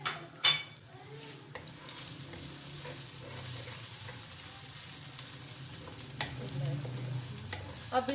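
Onions and garlic sauté in hot oil with a soft, steady sizzle, broken by occasional scrapes and clinks of a spoon stirring in the pan, heard fairly faintly from close by.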